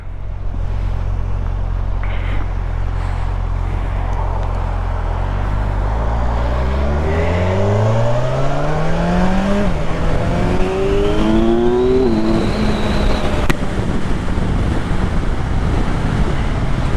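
Kawasaki Ninja 1100SX sport-touring motorcycle, 1100 cc, accelerating hard through several gears in traffic, each shift dropping the engine note before it climbs again, recorded up close with heavy wind noise over everything.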